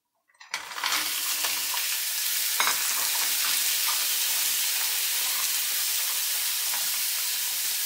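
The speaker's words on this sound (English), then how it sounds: "Now we put our mussels in." Mussels tipped into a hot pan of caramelized onions burst into a loud, steady sizzle that holds unbroken through the clip, with faint stirring clatter beneath and no voices.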